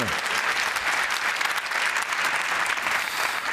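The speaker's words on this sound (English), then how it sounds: "Big round of applause, please, for Raj Nair, ladies and gentlemen." A crowd at the reveal of the 2015 Ford Focus RS in Cologne applauds steadily, a dense wash of clapping that holds even throughout.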